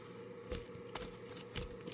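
A deck of tarot cards is riffled and shuffled up close, giving soft papery flutters with a few louder snaps, heard alone over a low steady hum.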